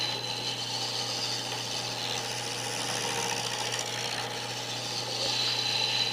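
A gouge cutting a wood ornament on a lathe, with a steady close rubbing, scraping texture over a constant motor hum and no speech.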